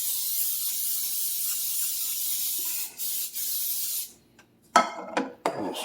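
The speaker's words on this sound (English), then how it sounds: "A little spray on there." Cooking spray hisses steadily onto a hot pan for a few seconds, then stops, followed by a few short sharp sprays and scraping sounds nearby.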